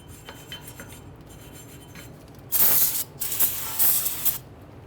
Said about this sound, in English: spray down our hub face with some anti-seize